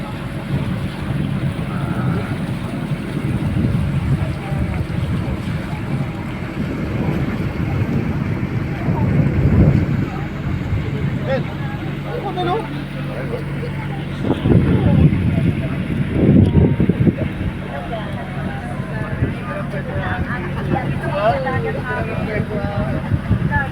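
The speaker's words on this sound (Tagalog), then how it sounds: "Okay, maandar na yung bangka namin." A motorized outrigger bangka running at sea, a low continuous engine drone mixed with wind buffeting the microphone and water noise, with people talking over it throughout.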